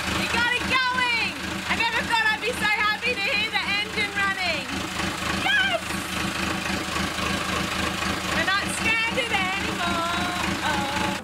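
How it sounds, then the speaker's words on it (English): A repaired sailboat engine idles with a steady low chugging throb throughout, while excited voices talk and shout over it close by. "I never thought I'd be so happy to hear the engine running!"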